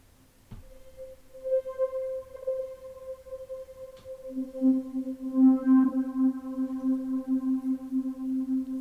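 A synth tone with reverb and a long decay setting, sustained harmonic notes that ring and blend, a low pitched note entering midway and holding steadily to the end, alone without talk.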